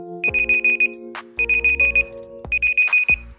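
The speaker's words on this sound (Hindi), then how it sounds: "एक बीप का साउंड आपको सुनाई देगा।" Google's countdown timer alarm sounding when the time runs out: three loud, clean bursts of rapid electronic beeps, each a quick string of about six pips, repeating at a steady pace with no voices.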